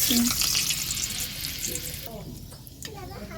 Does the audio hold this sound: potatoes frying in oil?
yes